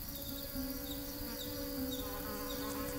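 An insect buzzes steadily near a carnivorous plant, a continuous droning hum with slight waverings, fairly close and alone with no voices.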